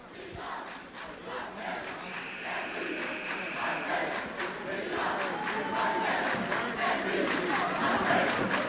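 Crowd at the 1986 NCAA Division III basketball championship cheering for Potsdam State as the bear mascot and cheerleaders rouse them, a steady roar of shouting voices at moderate distance, rising slightly toward the end.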